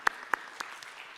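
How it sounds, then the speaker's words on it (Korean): A few scattered, sharp hand claps from a church congregation during a worship service ring out at an uneven pace, quiet and fading, like the tail end of a round of applause. "다시 한번 박수 부탁합니다."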